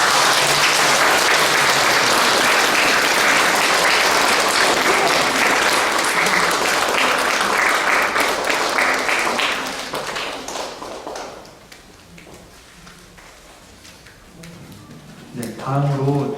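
A congregation applauds during a Sunday Mass in the Easter season at a Korean Catholic church. Loud, sustained clapping lasts about ten seconds, then fades to scattered claps and quiet room noise, ending with a brief murmur.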